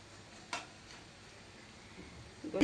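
Bitter gourd slices fry in a pan with a faint, steady sizzle, broken by a couple of sharp stirring clicks and a louder scrape of the pan near the end.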